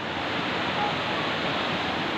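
A small waterfall at a temple site gives off a steady, even rush of falling water, broad and continuous without breaks, fairly loud and close.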